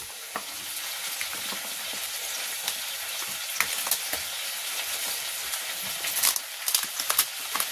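Leaf-wrapped pork sits on a hot tawa griddle and sizzles in a soft, continuous crackle, with scattered sharper pops and spits close by and no talking.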